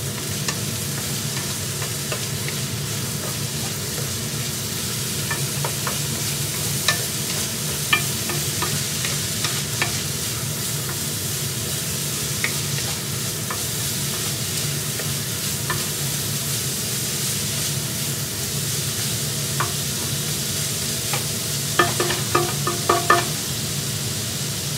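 Sweet potato (kamote) frying in a pan for veggie lumpia with shrimp, a loud continuous sizzle with spatula stirring and a few sharper clatters near the end, no talking.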